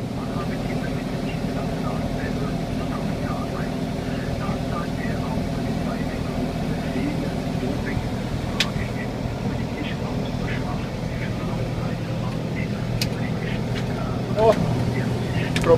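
A well-tyred tractor spraying a potato field against late blight drives steadily through the crop, its engine a continuous close rumbling drone with occasional faint clicks and knocks.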